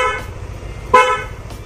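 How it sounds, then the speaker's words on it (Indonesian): A Hella waterproof snail horn fitted to a Yamaha NMAX motorcycle, with all the body panels reinstalled, gives one short, loud, harmonic toot near the middle over a low idling rumble. Two fainter bursts come at the start and the end. "Kita coba dengar suara klaksonnya ya, setelah kita tutup menggunakan semua bagian bodinya."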